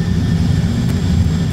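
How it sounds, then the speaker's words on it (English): Airbus A320 jet engines roaring in reverse thrust after landing, a loud, steady low rumble with broad hiss throughout, heard up close from inside the cockpit with no talking. "Reverse thrust set."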